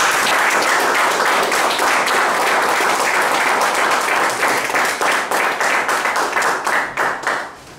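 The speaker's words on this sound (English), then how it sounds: "please join with me with a big round of applause the person who is starting a Toastmaster journey today" An audience gives loud, sustained applause to a new speaker at a Toastmasters meeting. Dense clapping fills the room, then breaks into scattered separate claps as it fades.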